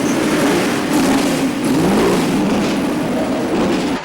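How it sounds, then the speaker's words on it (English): A race car engine is being fired up inside a paddock garage, a steady loud rumbling churn that swells and settles without a clear single revving peak. "They're just trying to fire the car now."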